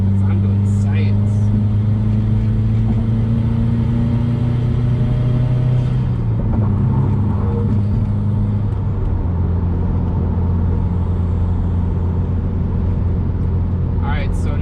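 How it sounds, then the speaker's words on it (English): Steady low road rumble and engine drone inside a 2017 Subaru WRX Limited cruising at about 70 mph, with a strong low hum that shifts slightly around the middle and a brief rougher patch, continuous and fairly loud. "now we are on cruise control at about 70 miles an hour"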